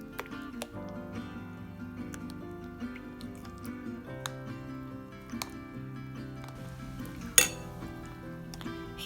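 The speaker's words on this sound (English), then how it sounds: "Here I am using a whisk so that there won't be any lumps in the batter." A whisk stirs thick rava batter in a bowl, making light, irregular clinks and taps against the bowl, with one sharper knock near the end, over soft background music.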